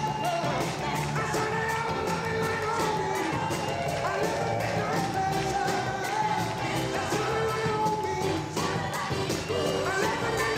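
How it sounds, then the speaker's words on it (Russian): A crowd cheers and claps for a jive dance performance over loud music, continuous and dense throughout, with scattered shouts rising from the audience. "Заслуженные аплодисменты."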